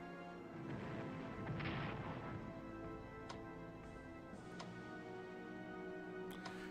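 Naval bombardment of a land target in War in the Pacific, a wargame: a dull, rumbling barrage of distant booms that swells early and then settles into a low drone with scattered faint clicks.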